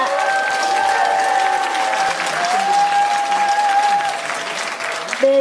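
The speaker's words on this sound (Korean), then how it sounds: "여러분 다시 한번 큰 박수 부탁드리겠습니다" An audience applauds a speaker at a lecture forum in the National Assembly, with sustained, even clapping from a sizable room and a faint steady tone underneath.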